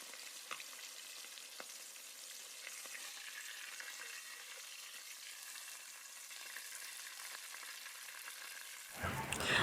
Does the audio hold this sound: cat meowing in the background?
no